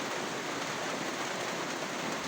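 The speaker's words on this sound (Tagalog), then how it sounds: "Medyo pumapasok yung ulan dito pag humahangin." Steady wind-driven rain hisses as an even, continuous wash of noise, moderately loud and close, with no voices.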